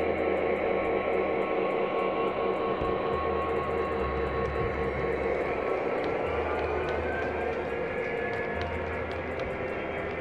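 A model train rolls along its track with a steady rumbling whir, a low hum, and faint repeated clicking from the rails.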